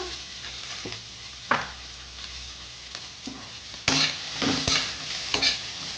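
Chopped capsicum with green chillies stir-frying in a pan for an egg curry with cauliflower, a close, continuous sizzle broken by scattered scrapes and a burst of louder stirring in the second half.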